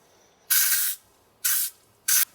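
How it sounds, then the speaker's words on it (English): Spray paint hisses from an aerosol can onto a car differential cover in three sharp bursts: a long one, a shorter one, then a brief final puff, each stopping cleanly into near silence. "This is a good opportunity to put some sort of paint over it."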